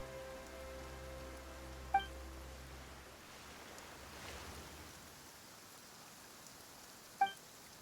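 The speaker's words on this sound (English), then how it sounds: "Why is it raining all of a sudden?" Steady rain patters on a surface as a soft, even wash in a video game scene, with a low hum fading out early and two faint chime-like blips.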